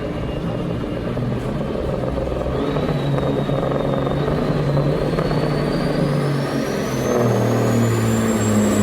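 Heavy pulling truck engine roaring steadily off the starting line at a county fair truck and tractor pull, loud and sustained throughout with a rising whine climbing over the low rumble.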